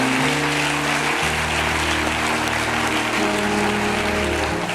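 A church congregation applauding, a steady wash of many hands clapping that fills the room continuously, with sustained musical tones running beneath it.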